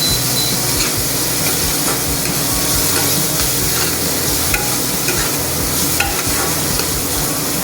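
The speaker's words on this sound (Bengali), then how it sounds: "কালারটা চেঞ্জ হওয়া পর্যন্ত পেঁয়াজটা একটু ভাজবো" Onions, crushed garlic and green chilies fry in hot oil, a steady close sizzle with scraping stirs running throughout and no talk.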